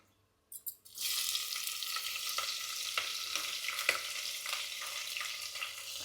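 Chopped large onions sauté in a pan for a veg green biryani, with a loud continuous sizzle that starts abruptly after a few brief clatters and carries faint stirring scrapes, heard close with no voices.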